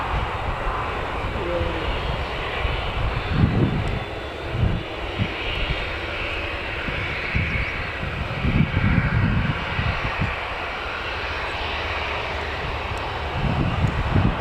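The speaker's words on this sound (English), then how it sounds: "What's this on the move there? Little private one? Just on the runway? Oh, aye, little prop." A small private propeller plane taxis on the runway at Newcastle Airport, its engine a steady moderate drone heard at a distance, with occasional low gusts of wind.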